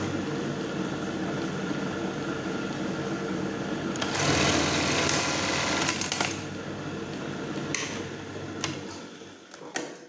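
Sewing machine test-sewing a zigzag stitch, with a fast, steady mechanical whirr and ticking that swells louder midway, then eases into shorter bursts and stops near the end, no talking.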